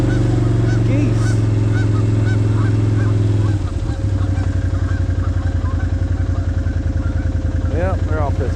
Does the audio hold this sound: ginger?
no